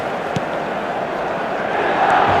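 Steady roar of a stadium crowd at a match in a football video game, a broad continuous wash of many voices that swells slightly louder toward the end.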